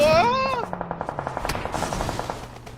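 Rapid automatic gunfire in the PUBG Mobile battle royale game, a rhythmic burst of evenly spaced shots that rattles on for about two seconds after a brief tonal whine.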